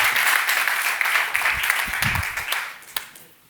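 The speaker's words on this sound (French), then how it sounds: "On applaudit Anatole Lécuyer" An audience applauds speaker Anatole Lécuyer at a festival talk: a dense, fairly loud patter of clapping that holds steady for a few seconds and then tapers off toward the end.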